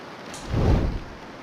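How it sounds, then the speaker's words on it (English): Wind picks up in The Long Dark, a survival video game, swelling into a brief low rushing gust that peaks midway and then eases back into a steady background hiss. "looks like the wind just started picking up"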